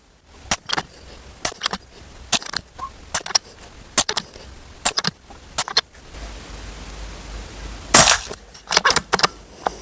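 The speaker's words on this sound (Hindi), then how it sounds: "तो सारे शॉट्स फायर हो गए।" A series of sharp shots from a Diana Skyhawk .177 bullpup PCP air rifle, fired freehand one at a time with irregular gaps, each a crisp close crack, with one heavier burst near the end.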